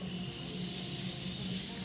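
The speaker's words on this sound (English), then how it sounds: "This one first, the Morphe Continuous Spray." Morphe Continuous setting spray mists onto a face as one steady, soft hiss that lasts the whole time, close and alone, with a faint low hum underneath.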